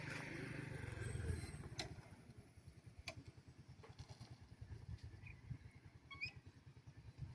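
A motorcycle rides along a mountain road near Laua-an, Antique, its engine putting out a steady, close, pulsing chug. Louder wind buffeting comes at the start, with a few faint clicks and tones over the top.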